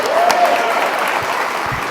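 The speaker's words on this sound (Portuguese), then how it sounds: "Dá uma salva de palmas para Jesus" A church congregation claps for Jesus, a steady wash of applause that fills the room and carries on evenly without a break.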